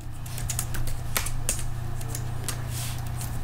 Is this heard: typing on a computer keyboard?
yes